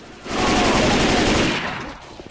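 Rapid automatic gunfire from the video game Left 4 Dead 2 rattles in one loud, dense burst lasting just over a second before cutting off.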